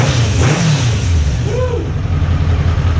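A Kawasaki Concours motorcycle engine runs close and loud, a steady low drone with a quick rev rising and falling early on and a brief whirring swell later.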